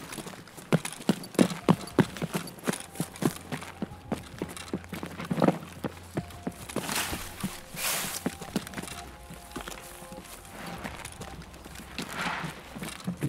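Footsteps run across a wooden floor in the shooter game Escape from Tarkov: quick, rhythmic thudding steps, fairly faint and somewhat distant, continuing steadily with a few heavier knocks.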